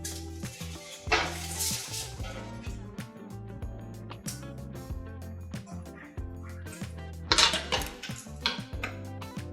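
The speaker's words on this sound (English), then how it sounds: "Finally, we can get our beef Wellington out of the oven." A beef Wellington pan is taken out of a home oven with a run of clinking and clattering of metal pans and utensils, moderately loud and close, with scattered sharper knocks.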